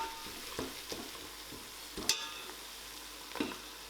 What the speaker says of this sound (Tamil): இது நல்லா கோல்டன் ப்ரௌன் ஆகிறது வரைக்கும் இதை வதக்கணும்